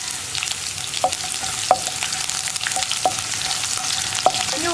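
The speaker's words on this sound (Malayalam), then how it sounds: "ആ ഉള്ളിയും ചേർത്ത് കൊടുക്കുന്നുണ്ട്." Chopped onions frying with mustard seeds and dried red chillies for a green peas curry, a steady close sizzle with occasional scraping stirs and small pops, no voices.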